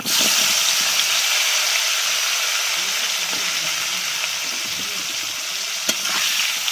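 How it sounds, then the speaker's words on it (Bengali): Okra fries in mustard oil with a loud, steady sizzle and bubbling hiss close up, broken by an occasional sharp clack of a utensil against the pan. "ভালো করে ভাজা ভাজা করে নেব। সরিষার তেলে রান্না হচ্ছে এই রেসিপিতে।"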